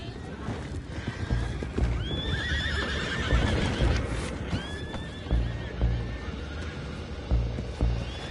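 Horses in Red Dead Redemption 2 give several shrill whinnies over busy clip-clopping hooves and game commotion, fairly close and loud, with some background voices.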